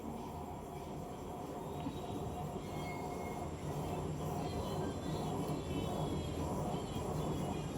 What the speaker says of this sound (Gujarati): તો અમારી ટ્રેન ઉપડી છે હવે।